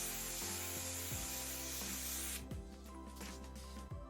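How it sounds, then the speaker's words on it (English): Liquid sprayed onto a lace wig closure, heard as a broad steady hiss for most of the stretch, then stopping and giving way to quieter handling sounds with no talk. "Just spray it on."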